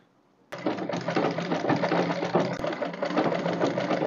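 A sewing machine stitches a crinoline ball dress, starting abruptly after a brief quiet moment and then running in a steady, close, rattling whir for several seconds.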